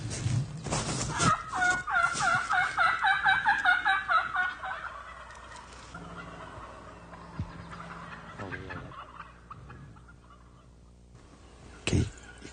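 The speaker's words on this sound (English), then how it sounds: "you can hear the gobblers" Wild turkey gobblers gobble repeatedly from across a field, several loud rattling calls up close at first, then fainter answering gobbles in the distance, with a sharp knock near the end.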